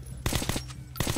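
Gunfire in the video game Metro 2033 Redux, short bursts of rapid automatic shots in two clusters separated by a brief pause, loud and close with no talk.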